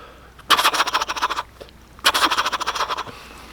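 Two rapid, rattling turkey gobbles from a mouth call, close and fairly loud, with a brief pause between them.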